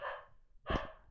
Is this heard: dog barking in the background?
yes